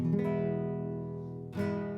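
Nylon-string chord on an Epiphone EC-24 classical guitar with high string action rings out and decays, then a second strum sounds near the end, close and solo.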